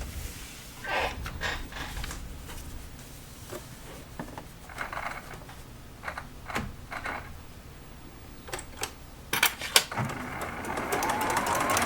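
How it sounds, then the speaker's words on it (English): A sewing machine stitches a quilt seam in short, whirring bursts with pauses between them, fairly quiet and close, with handling clicks and rustles of fabric in between. "And then we're going to sew that seam."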